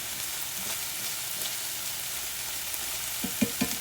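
Onions caramelizing in a pot with beef pieces give a steady close sizzle and crackle, with a few soft stirring knocks toward the end.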